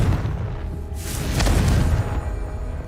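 A Confringo fire spell blasts with a loud, rumbling explosion in Hogwarts Legacy, a broad boom swelling around the middle and trailing off into a low roar over game ambience.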